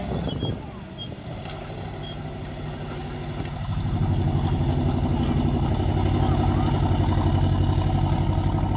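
An Alvis Stalwart high mobility load carrier at a tank museum vehicle demonstration, a deep diesel engine rumble close by that swells louder midway and holds steady, with someone talking over it.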